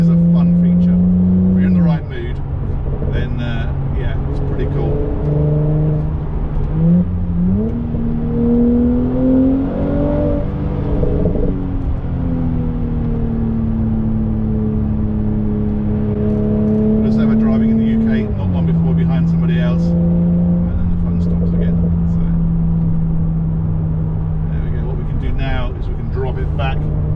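A Mercedes-Benz SL400 engine changing down while driving, the revs stepping up and sliding between gears in a smooth, rising and falling drone close by, with someone talking over it.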